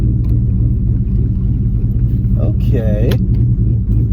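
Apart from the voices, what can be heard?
cammed car engine loping at idle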